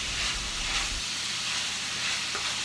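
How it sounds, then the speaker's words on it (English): Pork belly frying in a pan as slivered onion is stirred in, a dense, steady close sizzle with soft stirring scrapes and no voices. "Stir in half an onion slivered."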